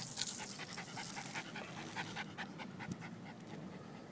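A Schnauzer pants rapidly and steadily up close, quick rhythmic breaths with faint soft whimpers, no talking.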